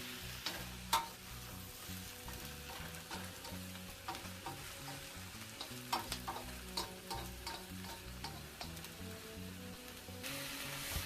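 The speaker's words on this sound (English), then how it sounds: "I'm just going to stir it around just to saute the vegetable a bit with the onion" Sweet peppers and onion sautéing in a pan, a steady soft sizzle broken by frequent scraping stirs and light clicks of the utensil, close and moderately quiet, with no talking.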